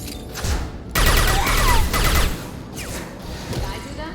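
Pistol fire in Mass Effect 2 lands as a few loud, sharp cracks and short clattering bursts, mixed with other combat effects at close range.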